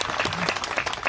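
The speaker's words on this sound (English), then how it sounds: "give her a round of applause once again." Outdoor audience applause at a park groundbreaking ceremony, a short burst of steady clapping from a gathered crowd, fairly loud and even.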